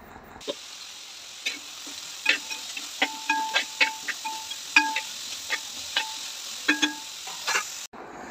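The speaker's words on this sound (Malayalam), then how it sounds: "ആവശ്യത്തിനുള്ള ഉപ്പും കുറച്ച് കറിവേപ്പില ഇട്ടിട്ട് ഇതൊന്ന് വഴറ്റിയെടുക്കാം" Sliced onions sauté with salt and curry leaves in a pan, a soft steady sizzle running under repeated bright metallic clicks and scrapes of a spoon stirring against the pan, with no talking.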